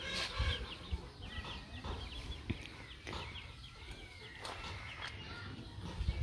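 Chickens cluck steadily at close range on a farm, with scattered calls overlapping and a few louder squawks at the start and end.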